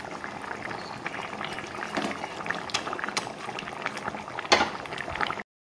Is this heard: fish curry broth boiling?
yes